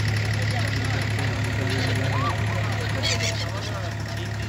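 Abra water-taxi engine idling and chugging steadily on the Bur Dubai to Deira crossing in Dubai, a constant low drone with mechanical knock, with voices talking nearby throughout.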